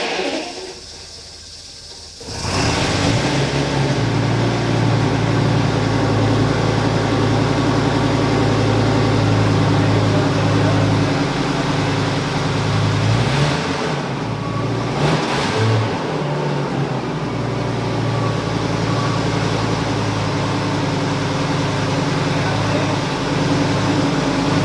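A restored, formerly burned-out Lamborghini Gallardo LP520 engine cranks and catches after a quiet start, then settles into a loud, steady running note with a couple of brief revs midway, close by and continuous.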